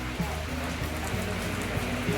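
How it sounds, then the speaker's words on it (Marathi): Steady rain pours onto a veranda, a dense continuous hiss of drops with faint low murmurs of voices in the background throughout. "पाय वरांड्यात किती पाऊस पडतोय आमच्या"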